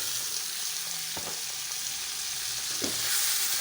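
Beef tripe (mandonggo) sautéing in a pan for mandonggada, a continuous close sizzling hiss broken by a few scraping stirs, no voices.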